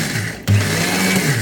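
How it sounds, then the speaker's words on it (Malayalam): An electric mixer grinder switches on abruptly and whirs at a loud steady pitch while grinding cumin and vegetables into a paste for avial, after a moment of quiet room noise. "അപ്പോൾ ഞാനിത് മിക്സി ചാലുവാക്കുവാണ്"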